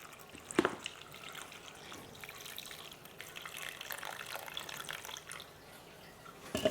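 Water poured from a tap or container over beef for a beef with broccoli marinade, a faint continuous trickle and splash with a couple of sharper drips, alone without talk.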